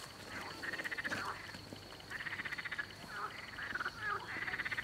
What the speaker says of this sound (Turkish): ne diyor bu kurbağalar ya?